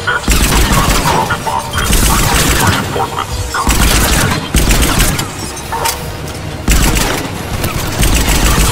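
Heavy sustained gunfire in a Mass Effect 3 firefight, loud and continuous with dense overlapping bursts and booms across the whole stretch, voices talking over the shooting.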